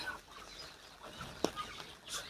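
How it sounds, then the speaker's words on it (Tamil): Guinea fowl and chickens cluck and squawk in short scattered bursts, with one sharp louder call midway, fairly close against a quiet outdoor background. "கிண்ணி கோழிலாம் என்ன பண்ணுது"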